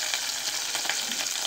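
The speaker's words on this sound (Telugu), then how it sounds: "వెల్లిపాయ మంచిగా వేగుతుంది, ఆల్రెడీ వేసాము" Garlic sizzles and crackles steadily in hot oil, a close, continuous frying hiss as tempering for leafy-greens dal is cooked, with no talk.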